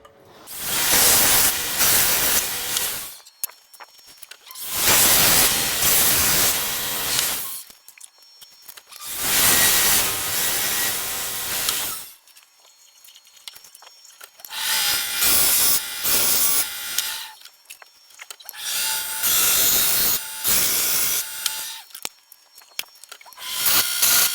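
A belt grinder sharpens a Hudson Bay pattern axe with a fine conditioning belt, giving six loud bursts of rasping, hissing abrasion a few seconds each, separated by short quiet pauses, with a faint whine in the later passes.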